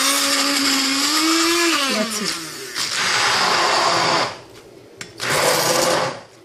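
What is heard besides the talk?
hand blender beating coconut with water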